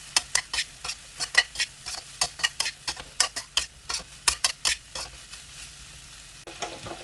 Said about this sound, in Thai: จากนั้นก็ผัดต่อค่ะ ตรงนี้ก็ผัดไปแค่แป๊บเดียวเท่านั้น